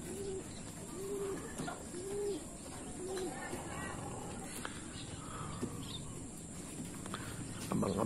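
Pigeons coo nearby in a soft, regular series of rounded calls, repeating about once per second at first and then fading, over a constant background hiss with other faint bird chirps.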